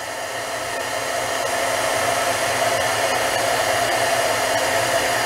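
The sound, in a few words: embossing heat tool heating stamped paper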